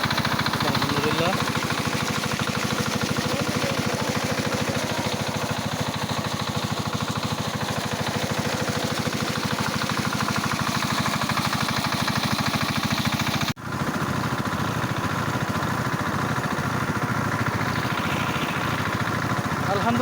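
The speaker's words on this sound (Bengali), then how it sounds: "অবশেষে আমরা দুটো মেশিন স্টার্ট দিতে সফল হয়েছি" Two engine-driven pump machines drone continuously while draining a fish pond in a village, a loud, steady mechanical hum and rattle heard close by with no break in the running.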